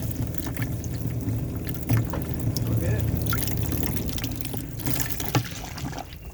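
Cold water runs steadily from an RV tap after dewinterizing and a P-trap flush, a continuous close trickling splash with faint clatter at moments.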